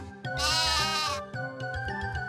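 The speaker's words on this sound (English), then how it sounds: "Whoever said herding sheep was easy, they might as well be lemmings." A sheep in the Final Fantasy 3 PC video game lets out a single loud, quavering bleat, followed by a lighter game music cue.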